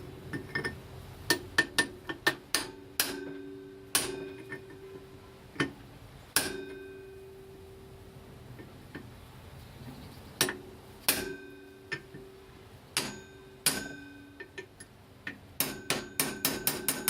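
Hammer blows knocking a pulley off the relay box of a Mobylette Motobécane moped, sharp metallic strikes coming in irregular bursts and clusters with short pauses, close and clear with no talking.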